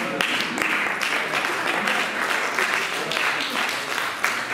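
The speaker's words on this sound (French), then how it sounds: "Tu vas acclamer le Seigneur." A church congregation claps for the Lord in a steady, dense wave of applause, close and loud throughout, with voices mixed under the clapping.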